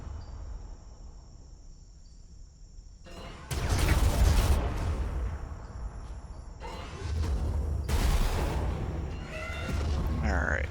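Bursts of gunfire in the Warhammer 40000 Armageddon strategy game come in two dense volleys of crackling, booming shots over a steady background hum, with game noises scattered between.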